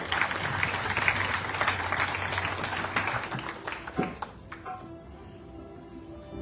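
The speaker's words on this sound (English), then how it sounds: "Please give her a nice round of applause." Audience at an evening Ramayana in the Park gathering gives a sponsor a warm round of applause, thick and steady at first, then thinning into scattered claps before fading to near quiet.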